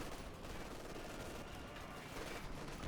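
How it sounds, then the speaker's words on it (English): Battlefield gunfire from Company of Heroes 2, with rifle fire and bazooka blasts, forms a dense, continuous wash of crackling shots and distant explosions that holds steady throughout at moderate loudness. "the sniper versus Findeed's forces gets repulsed there by bazooka fire"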